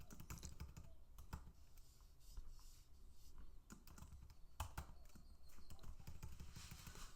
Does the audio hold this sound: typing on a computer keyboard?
yes